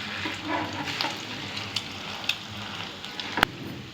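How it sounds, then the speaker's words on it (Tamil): Bread stuffed with millet masala filling sizzles steadily in a pan on a low flame, with a continuous soft frying hiss and a few sharp crackles and pops near the end. "ப்ரெட்டில் இதை வச்சு அப்படியே அதை லோ ஃப்ளேமில் வச்சு அதை பிரட்டி போட்டு எடுத்துடணும்"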